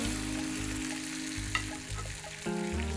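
Pomfret fish sizzles steadily as it fries in oil in a small pan, a continuous crackling hiss with a few sharp pops and a brief clatter near the end.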